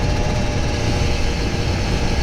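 Kawasaki Ninja RR 150 motorcycle engine revving while riding, a loud, dense, steady roar with wind buffeting the microphone, close and continuous throughout with no talking.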